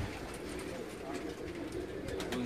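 Pigeons coo faintly on a rooftop while people chat close by, the low burbling calls mixed under the conversation.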